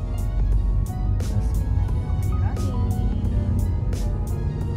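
A car on the road heard from inside a Daihatsu Sirion on a road trip to Bali, a steady loud low engine and road rumble throughout with rhythmic ticks, a passing vehicle blending into the cabin noise.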